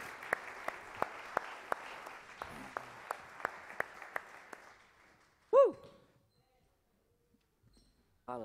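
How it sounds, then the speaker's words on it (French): A church audience gives the praise band a short burst of applause: sharp, regularly spaced claps from the crowd that fade away, followed by a brief loud cheer and a quieter vocal sound near the end. "Est-ce qu'on peut les applaudir pour les remercier?"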